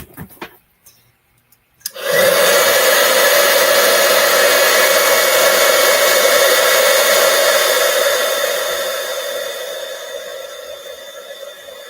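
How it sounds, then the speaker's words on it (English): After a few light taps and a brief near-silence, a heat gun switches on and blows a loud, steady whooshing hum while embossing powder is heated on a handmade card, then tapers slightly toward the end. "we're going to heat emboss this one before we do our next one"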